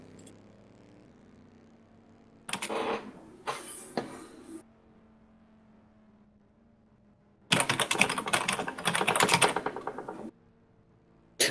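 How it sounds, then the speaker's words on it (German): Two bursts of rapid computer keyboard typing sound close by, a short flurry and then a longer steady run, separated by a quiet stretch of low background hum. "Also nicht wundern, wenn ihr mich tippen hört."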